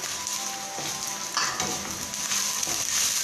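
Onions and tomatoes fry in a pan with a steady close sizzle, stirred now and then, with brief louder bursts of crackle as fresh tomato hits the hot oil.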